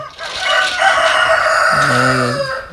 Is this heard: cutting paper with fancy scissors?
no